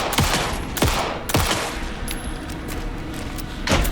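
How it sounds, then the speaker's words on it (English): Bursts of rapid video game gunfire from Alan Wake 2 crackle and echo against a constant noisy backdrop, with several sharp shot clusters spread across a few seconds. "Anderson, pin him down with gunfire for me to get the light on him."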